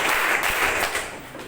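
A group claps together during a motivational seminar at Ponpes Hidayatullah Bintan, an Islamic boarding school, in a five-clap routine. The clapping is a dense, steady wash of many hands at a fairly even level, with no voices over it.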